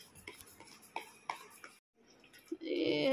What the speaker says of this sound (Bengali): এরকম চামচ দিয়ে ফেটানো হচ্ছে